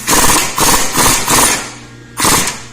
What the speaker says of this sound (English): So it came loose with this puller tool that I bought several months ago.